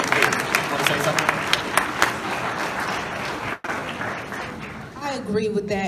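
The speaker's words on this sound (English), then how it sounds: "Applause to our panelists." Audience applause for the panelists at a campus debate event, a dense steady clatter of many hands, loud and sustained, briefly cut off near the middle before resuming and fading as voices emerge at the end.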